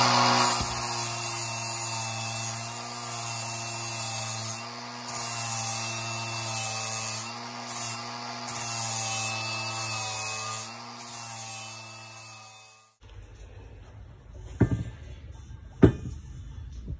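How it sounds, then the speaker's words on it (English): A worn flap disc grinds a smooth metal part to give it a cast look, with a steady loud whine carrying strong harmonics for about thirteen seconds before it cuts off, followed by quieter handling and a couple of sharp knocks. "I've only done one side, obviously, and I've used a flap disc."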